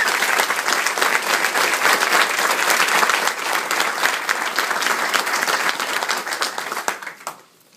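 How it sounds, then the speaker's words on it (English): A large crowd at a school of music class of 2017 welcoming ceremony bursts into loud, sustained applause, thick and even throughout before quickly dropping away at the very end. "let's hear a big round of applause"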